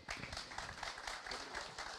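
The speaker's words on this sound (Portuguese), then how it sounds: "E eu queria, então, uma salva de palmas, José Eduardo." Audience applause at a talk on soil recovery, a dense steady patter of clapping that holds for about two seconds at moderate distance with no break.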